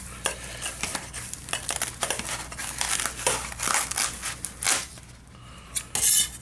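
Crunchy, squeaky snipping as large scissors chew through a foam pipe insulation tube, repeated cuts with rustling in between, loud and close.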